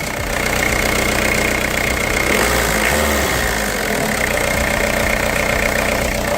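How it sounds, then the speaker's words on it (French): A Peugeot 306-based buggy fitted with a V8 idles loudly and steadily nearby, a dense, rough mechanical rumble with a slight knocking texture that holds constant throughout, with no talking over it. "écoute-moi le bruit mythique de ces blocs"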